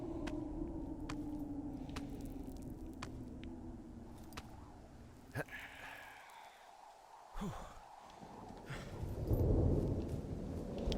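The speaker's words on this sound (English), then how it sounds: "I love the sound of thunder and rain" Steady rain hiss with low rumbling thunder rolling through in the video game Firewatch, a sharper crack near the middle and a heavier rumble swelling toward the end.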